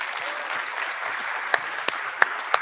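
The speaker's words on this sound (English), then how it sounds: "I think it deserved a bigger round of applause than that." Sparse, thin clapping from an audience at a CEO competition, a soft patter with a few sharper individual claps standing out near the end.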